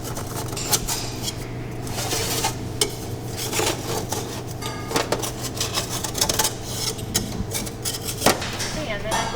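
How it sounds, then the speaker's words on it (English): A knife is scraped around the edges of an ungreased angel food cake pan, giving repeated metallic clicks, taps and scrapes in an uneven rhythm, close and fairly loud over a steady low hum. "I'm just going to gently run a knife along the edges"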